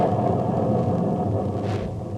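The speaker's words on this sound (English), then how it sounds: "What's that? Thunder?" A thunder sound effect from a 1950 radio drama, a low, continuous rolling rumble that stays loud throughout, with a brief hiss rising near the end.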